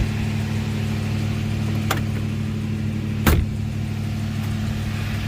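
A 1966 Ford Fairlane engine runs steadily with a low, even drone as the car pulls onto the road. It is heard from inside or close by, and a couple of brief sharp clicks or knocks break through the hum.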